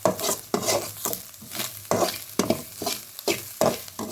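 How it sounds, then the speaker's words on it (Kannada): Banana masala dosa filling fries in a pan, a soft sizzle broken by regular scraping strokes of a spoon or spatula stirring, roughly twice a second, close by with no talk. "ಎರಡು ನಿಮಿಷ ಹಾಗೆಯೇ ಫ್ರೈ ಮಾಡ್ತಾ ಇರಿ"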